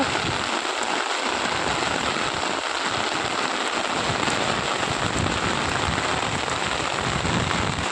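Heavy rain with wind in Banaskantha, a dense steady downpour hiss filling the whole stretch, loud and close with no voices over it.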